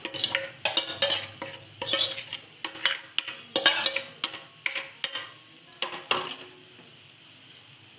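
A metal spoon scrapes and clinks against a pot as the leftover rice is layered over jackfruit biryani, with a series of close, busy taps and scrapes that fade near the end.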